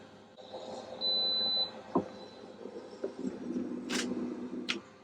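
Heat press timer on a keychain sublimation setup gives a steady electronic beep of about half a second, then a few fainter short beeps against background noise.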